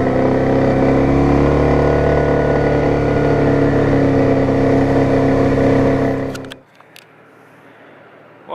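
ATV engine droning low and steady while riding slowly through mud in winter, loud and close with a rumbling tone, then cutting off abruptly into near silence with a few faint clicks.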